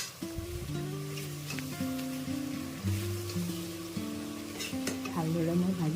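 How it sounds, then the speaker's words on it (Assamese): Soybean chunks fry in a pan while being stirred, a close sizzle with scraping strokes heard under steady background music. "ভালদৰে মই ভাজি মেলি ল'লোঁ"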